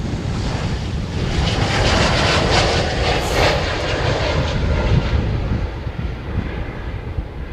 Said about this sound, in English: Look at these E2 jets, man. Look how quiet this thing is.